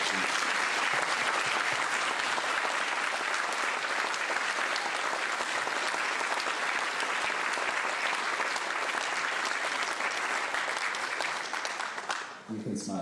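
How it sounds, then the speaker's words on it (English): Sustained applause from a school strings concert audience, loud and even for about twelve seconds before thinning out near the end. "if our guests would share with me our appreciation by giving another round of applause for them"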